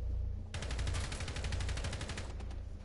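Rapid automatic gunfire rattles in a video game as walkers are shot down, a dense steady burst of close shots starting abruptly and running without pause.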